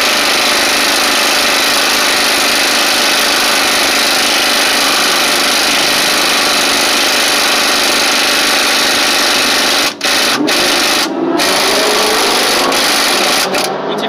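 A low-profile impact wrench pulling the harmonic balancer off a Chevy 305 crankshaft makes a loud, close, continuous rattling hammer for many seconds, with a few brief dropouts near the end.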